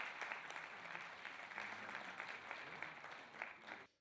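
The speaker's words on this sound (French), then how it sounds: "C'est par ces acclamations que les députés ont adopté à l'unanimité le règlement de l'Assemblée nationale" Deputies in a National Assembly chamber acclaim a resolution with steady, massed applause, a dense and fairly distant clatter of many hands that continues throughout and cuts off at the end.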